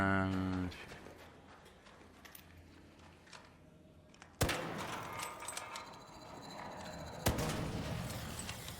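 Gunfire in the video game Arc Raiders: two sharp, loud shots about three seconds apart, each followed by a ringing decay over a steady game ambience.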